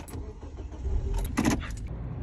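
Interior of a car on a ride with a dog aboard, the steady engine and road rumble close and continuous, with a few brief clicks and rattles and no talking.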